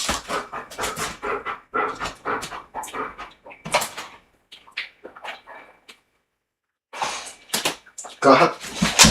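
A dog pants and lets out soft whimpers close by, mixed in with a person talking, then a short silence before the dog's breathy sounds return.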